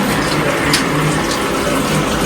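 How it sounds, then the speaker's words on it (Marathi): Food rinsed under running tap water in a kitchen, a loud, close, steady gush of flowing and splashing water with no speech. "मस्त धुवून घेऊया स्वच्छ हा दोन तीन पाण्याने धुवून घेऊया आपण"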